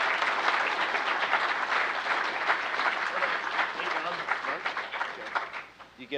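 A pub audience gives a big round of applause for a guest speaker after a talk, with a dense, sustained clatter of many hands that holds steady, then thins and fades toward the end.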